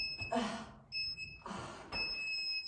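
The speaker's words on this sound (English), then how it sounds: "Let's turn this buzzer off." A workout timer buzzer at the end of an upper-body weights session sounds as three bursts of high, steady electronic tones, separated by short gaps, fairly faint and with noise mixed into each burst.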